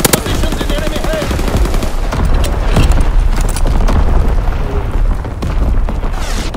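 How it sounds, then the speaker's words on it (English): Video game battle with incoming enemy artillery, a dense, loud barrage of rapid gunfire bursts and booming explosions rolling continuously, with a voice briefly calling out under the din. "Incoming enemy artillery!"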